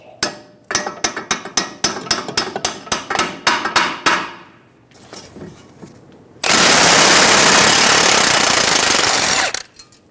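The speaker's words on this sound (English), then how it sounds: "Using a hammer, we're going to hit around the knuckle near the ball joint and release the tension on the stud." Hammer striking around a steering knuckle near the ball joint stud on a 2007-2011 Toyota Camry, about twenty loud ringing metal blows in quick rhythm, then a long burst of roaring noise.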